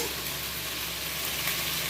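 Carrots and other vegetables frying in oil for chilli babycorn: a steady, even sizzle with a bright hiss that stays constant and close throughout, with no talk over it.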